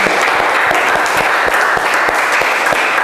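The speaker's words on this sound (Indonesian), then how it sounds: "Raffi Syarial, tepuk tangan." Participants in an automotive engineering teacher-training session applaud a top scorer, producing steady, continuous clapping with sharp individual claps standing out, close and fairly loud, with no talking over it.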